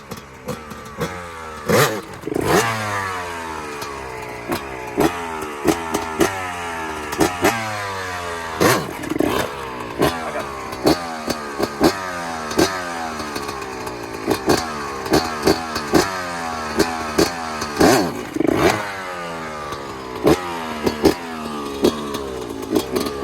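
A dirtbike engine revving hard through a wheelie, rising and falling in repeated surges with sharp throttle blips, fairly close and steady with no talking.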